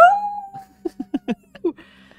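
A person imitates a wolf howl with a short rising-and-falling vocal cry at the start, then several quick, separate vocal bursts and sounds follow, close and fairly loud over a faint steady hum.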